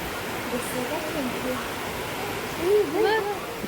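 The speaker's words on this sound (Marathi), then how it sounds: "पाऊस पडतोय तर बघतायत." Steady rain falls with a constant hiss, and a voice speaks briefly near the end.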